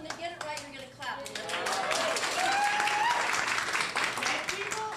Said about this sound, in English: And audience, when they get it right, you're going to clap.